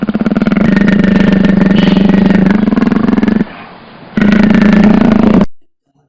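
A tiger sound effect: a long, loud, rumbling growl-roar with a throaty pulsing rhythm, a brief pause, then a second roar that cuts off abruptly into silence.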